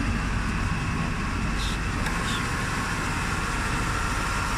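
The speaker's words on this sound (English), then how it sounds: "we're gonna listen to the engine" A 1989 Mercedes-Benz 420SEL W126 with an all-aluminum V8 engine runs steadily at idle, a smooth, even, close-up drone with no voices.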